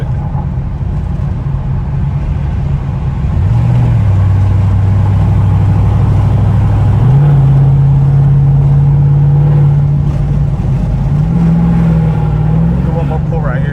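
A modded race truck doing donuts, its engine revving loud and close in a sustained droning roar that steps up in pitch several times as the throttle is held.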